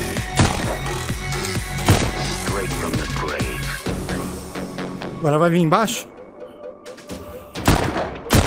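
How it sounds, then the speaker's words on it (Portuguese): Rapid bursts of gunfire in the VR game Pistol Whip on Oculus Quest 2 crackle from all sides, mixed with thuds and explosions, while someone talks excitedly over the shooting. "Nossa, tiro de todo lado."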